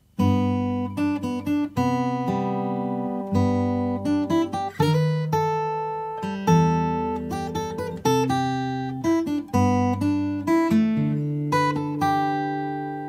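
A guitar plays a picked melodic line from an Adventure Time song, distinct notes and short phrases, steady and clear with no voices.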